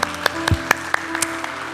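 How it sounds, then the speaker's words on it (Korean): A church congregation claps briefly for the orchestra. A few scattered, separate hand claps sound over a hum, fairly close and sparse, lasting under two seconds. "우리 한번 박수로 축복하고 격려하겠습니다"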